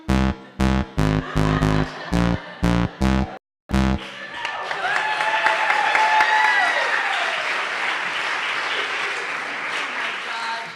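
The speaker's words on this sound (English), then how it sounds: "can we give another giant round of applause for Zim, please" A voice speaks a series of short, evenly spaced phrases; after a brief silence, an audience bursts into sustained applause for a child on stage at a fringe festival opening ceremony, a broad wash of clapping that slowly thins.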